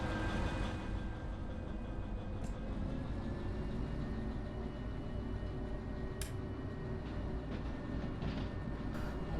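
A locomotive hauling about 290 tons of wagons in the Derail Valley train simulator game rumbles steadily with a low engine drone and rolling noise, with a few brief metallic clanks and squeals scattered throughout.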